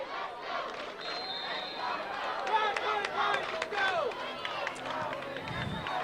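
Home crowd of Poway supporters at a 2003 CIF Division 1 girls soccer final, a steady wash of cheering and chatter with scattered shouts over the field noise, rising and lively throughout.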